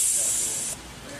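Gas purge on a Miller 70 series wire feeder fitted to a welding lathe gives a close, steady hiss that drops off partway through the short burst.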